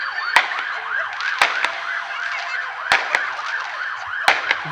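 A wailing siren rises and falls steadily at the start of the Sudecka Setka ultramarathon, with several sharp bangs like firecrackers cutting through at irregular intervals.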